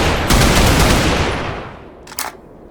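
A burst of rapid automatic fire from an RVK light machine gun, an AK-family LMG in the Roblox shooter Blood Debt, loud and dense for over a second before trailing off, with a short sharp report near the end.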